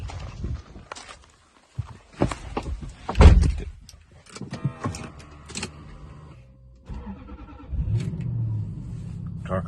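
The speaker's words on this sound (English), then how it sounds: "Car comes to life" A Lexus SC 430 that shows an engine warning light starts up. Door clunks, clicks and cabin rustling come first, then the engine fires and settles into a low, steady idle near the end.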